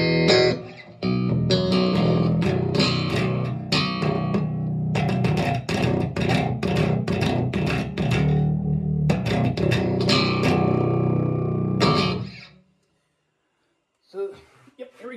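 A Beardly Customs multi-scale five-string electric guitar with multi-coil pickups, played with both pickups full and preamps centered, rings out in loud, dense strummed chords and riffs for about twelve seconds, then stops into near silence.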